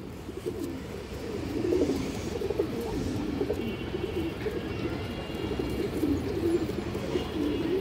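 Palla pigeons, old stone-eyed birds kept in a loft, coo in a steady low murmur that runs through the whole stretch, several birds overlapping at moderate closeness with no talk.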